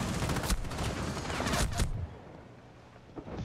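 Rapid gunfire crackles in Rainbow Six Siege, with loud bursts of shots near the start that cut off abruptly, followed by quieter scattered noise and a faint late shot.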